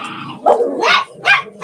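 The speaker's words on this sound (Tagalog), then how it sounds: "Ingay yung mga aso." Several sharp dog barks in quick succession, close and loud, with short gaps between them and a yelping edge to some.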